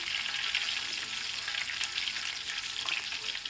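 Cajun-seasoned ling fish fries in hot oil, giving a steady, dense, close sizzle with crackling pops that runs evenly throughout, no voices over it.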